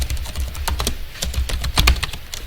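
Fast, crisp clicking comes from typing on a computer keyboard while entering data in Microsoft Access, heard close up as a rapid, uneven run of keystrokes over a low background hum.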